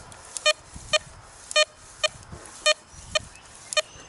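Tesoro Vaquero metal detector sweeping over a quarter buried four inches deep, giving a series of about nine sharp, loud tonal beeps at a fairly regular rhythm over faint outdoor background noise.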